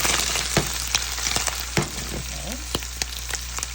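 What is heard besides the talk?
ackee and saltfish frying and being stirred in a pan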